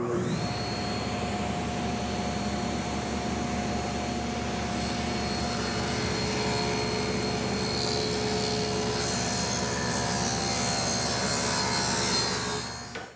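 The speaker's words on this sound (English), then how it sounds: "I'll make the first cut for a rabbet that's going to hold the plywood back." A table saw cuts the first pass of a rabbet in wood meant to hold a plywood back. The steady, loud whine and rush of the blade run continuously and cut off right at the end.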